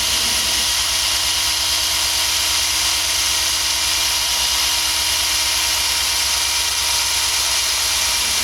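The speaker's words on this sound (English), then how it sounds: "I'm using a standard drill and a brass wire brush." A standard drill spins a brass wire brush against the carbon-caked face of an engine valve from an MR2 Turbo 3S-GTE head, giving a continuous, even whirring buzz with no talking.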